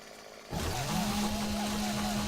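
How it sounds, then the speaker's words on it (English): A chainsaw in the video game 7 Days to Die roars to life after a short pause and keeps running loud and close, a steady buzzing engine drone with a sustained tone. "Man, chainsaw is so loud."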